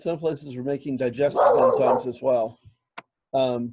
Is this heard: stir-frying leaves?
no